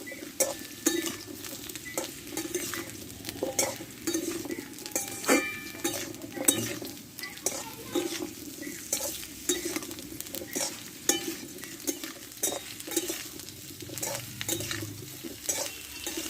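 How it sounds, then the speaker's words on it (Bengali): Drumstick pieces and radish stir-fry in a pan with a continuous soft sizzle, broken by frequent clinks and scrapes of a spatula against the metal as the vegetables are tossed. "দেখো সব সবজিগুলো একসাথে কষে নিয়েছি"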